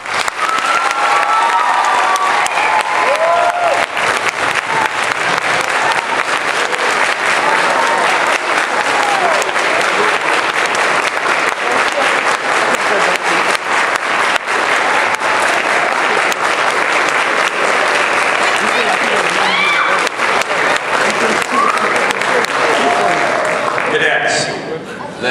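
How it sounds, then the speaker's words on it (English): Sustained applause from an audience at a high school NJROTC cadet awards night, dense and loud for about twenty-five seconds. Scattered cheers and chatter rise within the clapping, which thins out right at the end. "Please give them a round of applause."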